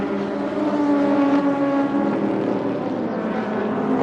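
Race car engine roaring steadily on board at the start at Laguna Seca, a sustained loud, dense drone with a strong tonal note throughout, no voices.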